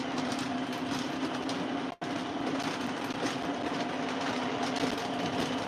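An upgraded O scale model diesel locomotive lash-up runs with a steady, even mechanical hum and whir at close range. The sound drops out for a brief instant partway through, then carries on unchanged.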